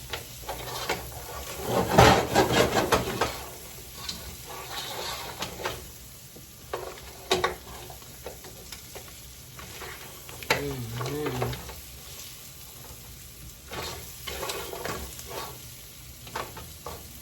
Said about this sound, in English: Kind of make sure every crab is coated with the garlic and the butter and peppers.